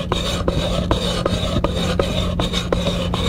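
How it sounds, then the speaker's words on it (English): A chisel bevel is stroked back and forth with light pressure on a DMT 6-inch diamond whetstone, producing a close series of about eight evenly spaced, gritty rasping strokes over a low steady hum. "maintain the flat bevel in flat contact with the diamond stone, stroke back and forth using light pressure."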